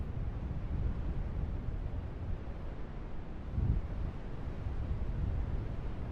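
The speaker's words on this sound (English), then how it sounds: "sounds like it's fairly windy" Steady outdoor wind in a game with duck decoys: a continuous low, rushing roar with a slight gust swell partway through, fairly loud and with no voices.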